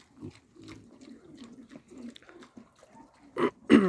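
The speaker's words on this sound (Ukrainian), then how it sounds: "Такі наші свинки" Pigs grunt softly and repeatedly at close range, with a couple of louder squealing snorts at the end.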